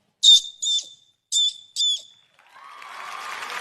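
A person imitates a parrot with four short, sharp whistled squawks in quick pairs, high and shrill, followed by a rising hiss of background noise.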